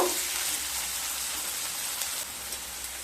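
Chopped onion and garlic frying lightly in a pan, a steady broadband sizzle with a soft crackle that holds at an even, moderate level throughout, with no voices.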